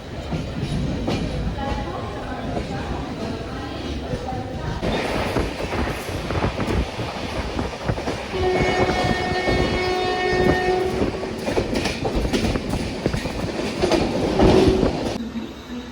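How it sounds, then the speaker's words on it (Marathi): Train rolling along the rails with rhythmic clatter and rumble, a horn sounding midway, loud and close throughout, a local train running from Kalyan to Karjat. "कल्याणवरून आता ट्रेन सुटलेली आहे."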